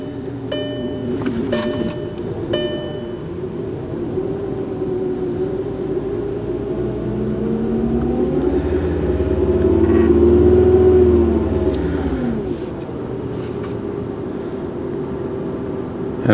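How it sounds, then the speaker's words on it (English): A car engine idles roughly, giving a steady low hum that swells and wavers in the middle before settling back down, heard close with some faint tonal beeps near the start. "Had a bit of a rough idle there for a second."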